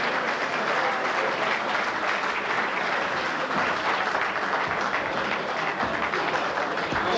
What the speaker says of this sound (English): And listen to the applause from the crowd.